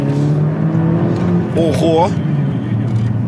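A Volkswagen Scirocco's engine drones steadily from inside the cabin, its pitch rising briefly as the car pulls harder, loud and continuous while a passenger lets out a short exclamation.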